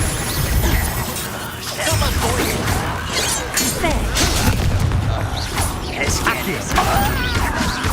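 A Confringo blasting spell explodes during combat in the video game Hogwarts Legacy, with loud repeated booms and crashes over a dense, busy fight mix.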